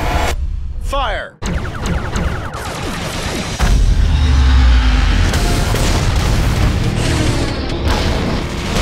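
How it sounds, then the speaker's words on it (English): Starship torpedoes launch and detonate in Star Trek: The Video Game, a dense run of loud booming blasts and crashing impacts, with a heavy low rumble building midway, layered under battle music and voices. "Gotti, prepare torpedoes, fire on my mark"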